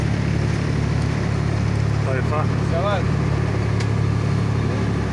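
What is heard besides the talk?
fishing boat engine running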